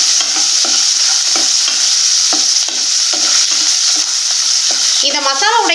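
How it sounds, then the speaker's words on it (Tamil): Onion, garlic and ginger sauté in a hot pan for egg masala gravy, a steady loud sizzle broken by regular scraping stirs, with a brief clatter near the end. "இப்போ இந்த வெங்காயம் வந்து லேசா வதங்கி வரட்டும். இந்த இஞ்சி பூண்டு எல்லாமே லேசா வதங்கி வரட்டும்."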